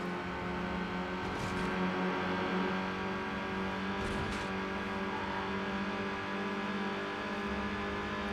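A VW Mark IV GTI with a 1.8 turbo engine drones steadily in the Need for Speed Underground racing game, a continuous even engine hum with light tonal layers and no clear revving.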